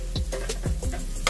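Garlic goes into a pan with browning onion for tuna creamy pasta, a soft sizzle under a few spatula scrapes and light clinks against the pan, close up with no talking.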